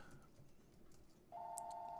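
A phone rings with a sudden steady electronic tone over faint room noise, starting partway through and continuing to the end, fairly quiet and close.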